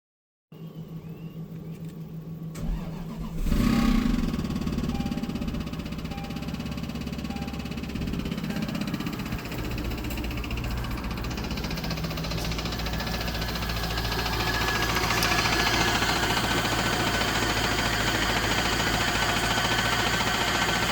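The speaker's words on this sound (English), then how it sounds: "the engine is toast, is knocking, and the coolant is just mixing with the oil." A Lexus GS400 V8 with a knocking engine and coolant mixing into the oil runs steadily at a rough, continuous mechanical drone, nearby and fairly loud, with no one talking.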